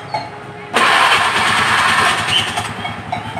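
A motorcycle engine is started by jumpering the starter and with the ignition on. A brief click is followed by the engine catching abruptly and running loudly and steadily up close, with no talk over it.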